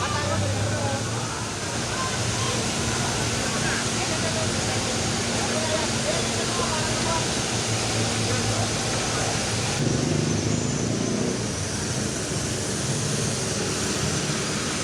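Flood water pours out from beneath Arranque Market in Manila, a loud, steady rushing roar that fills the whole stretch, with faint voices mixed into the noise.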